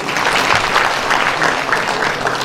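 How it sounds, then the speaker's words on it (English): Mourners at a memorial service applaud two young women, steady close clapping from a crowd lasting throughout with no talk over it. "Please clap again for these young ladies."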